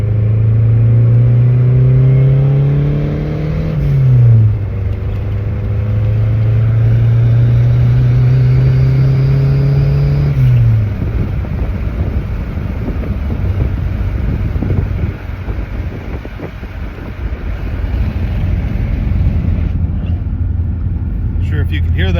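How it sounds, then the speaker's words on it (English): A Ford Thunderbird Turbo Coupe accelerates hard through the gears, the engine note climbing and dropping at each shift, while loud wind noise buffets the microphone and the turbo blow-off valve releases between shifts. "blow-off valve's pretty loud"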